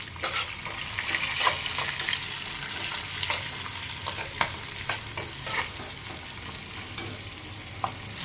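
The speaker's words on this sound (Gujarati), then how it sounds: "સિંગ તેલમાં જ વઘાર મારશું" Curry leaves, green chillies, sesame seeds and salt sizzle as they are tempered in peanut oil for Gujarati khatiya dhokla. The frying crackles steadily, with sharp pops and stirring clicks and no voices over it.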